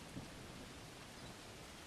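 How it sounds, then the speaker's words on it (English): Steady rain hissing down in the medieval survival game Bellwright, a faint, even wash of noise with a low rumble underneath, no voices. "Oh, look, the fire has some hard time because of the rain."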